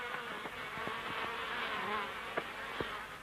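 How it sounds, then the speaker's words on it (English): Wild bees swarm around a cut-open tree trunk nest, a dense continuous buzzing drone with scattered louder passes of individual bees close by. "Now the bees are really buzzing."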